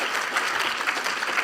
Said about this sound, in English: let's give another applause for our great speakers today.